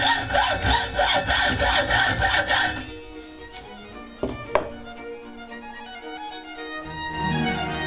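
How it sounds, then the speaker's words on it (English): Screws get sawn to length by hand for an audio recorder box, a fast rhythmic rasp of strokes for about three seconds, then quieter scraping, a sharp clack and faint handling noise, close and loud. "is cutting the screws to length"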